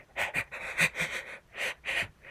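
Raspy, panting breaths from a Regenerator enemy in the Resident Evil 4 video game, coming in several uneven wheezing bursts with short gaps, close and moderately loud, with no talking.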